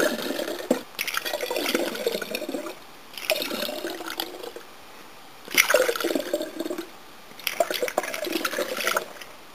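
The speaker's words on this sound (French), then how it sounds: "je prends de l'eau de source, de l'eau fraîche. Je vais donc en profiter pour rincer l'entonnoir et rincer le récipient." Fresh spring water is poured through a funnel into a container to rinse both, coming in several splashing, gurgling bursts separated by short pauses, close by and with no talking.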